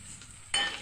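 Jackfruit curry frying in a pan, a brief bright sizzle that suddenly swells louder as the ingredients are stirred.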